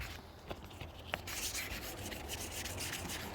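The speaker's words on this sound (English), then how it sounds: "now we're just going to go in with some 3000 wet and dry" Wet sanding of car paintwork by hand with 3000 grit wet and dry paper, refining an area etched by bird droppings: a soft, steady close rubbing and scuffing with no talk.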